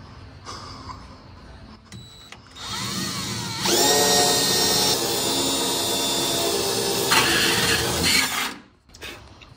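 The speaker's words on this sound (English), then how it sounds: "I am going to drill it straight." A step drill bit bores into a metal regulator case, producing a loud, close, grinding whine that rises and steadies for several seconds with squealing tones, then stops and falls away.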